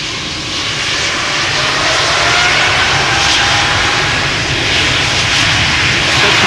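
Air Baltic Airbus A220 jet departing Amsterdam Schiphol, a loud, steady engine roar close by that swells slightly as it builds, with no talk over it.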